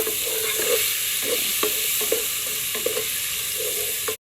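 Garlic sizzling in a hot pan, a steady close frying hiss broken by repeated clicks and scrapes of a spoon stirring, alone without talk until it cuts off at the end.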